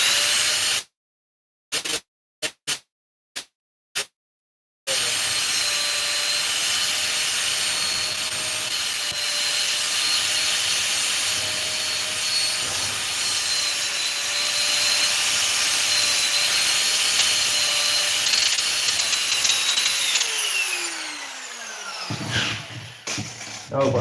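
An angle grinder cuts through copper scrap in a long, loud, steady whine after a few brief bursts, then winds down near the end.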